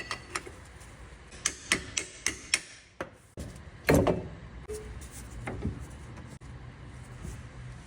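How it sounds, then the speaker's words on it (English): A tool taps at a Toyota MR2 transmission to pop the axle free: a quick series of sharp, evenly spaced metallic taps, then a heavier clunk, followed by faint handling clatter in a quiet garage. "I'll tap the bottom, and that will just pop the axle out of place"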